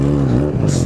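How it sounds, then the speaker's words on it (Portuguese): Yamaha XJ6 motorcycle engine sputtering on an uphill slope, a low steady harmonic rumble that wavers and dips midway as it catches and stalls, close and loud with no talk. "Eu ligando e desligando, a moto pegou e parou."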